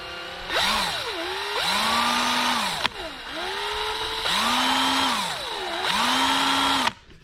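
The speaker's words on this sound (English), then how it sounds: "So I'm gonna go ahead and put this right where that marking is and just slowly drill." A power drill slowly bores holes in a Jaguar XF bumper for a carbon fiber splitter, whining in several long bursts, its pitch dipping and rising as it bites in, with short pauses between runs.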